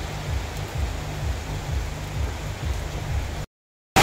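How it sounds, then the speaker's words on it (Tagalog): Heavy Christmas-season rain pours down with wind in a steady, loud hiss and low rumbling patter, then drops to sudden silence before a brief burst of sound at the very end. "Malakas po ang ulan naman po dito sa amin."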